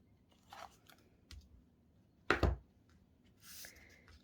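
Scissors cut through card for a no-sew fabric-covered notepad, giving one sharp, close snip in the middle, with faint clicks and paper rustles around it in a quiet room.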